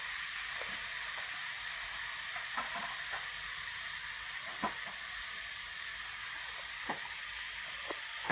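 Vegetarian bánh xèo filling of jicama and cooked corn sizzles in a pan over the fire, a steady broadband frying hiss with a few sharp crackles and pops scattered through it, close by and with no talking.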